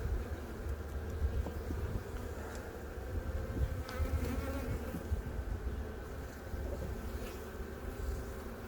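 Honey bees in a crowded beehive give off a dense, steady buzz that fills the clip. It sounds close and continuous throughout, with no talking over it.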